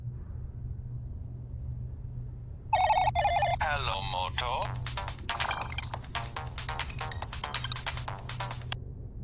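A phone ringing out on an outgoing call in a village short film, faint rings starting partway in and repeating as a rapid electronic trill over a low background hum, with no talk.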